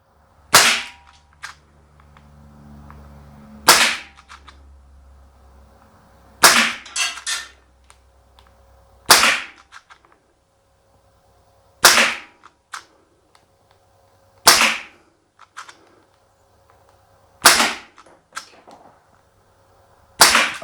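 Umarex Desert Eagle .177 CO2 blowback pellet pistol firing eight sharp, loud cracks at a steady pace about every three seconds, each with a brief metallic rattle, separated by near silence and faint handling noise.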